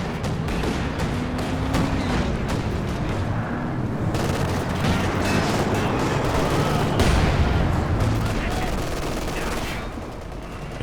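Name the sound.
Katyusha rocket artillery firing in Company of Heroes 2 video game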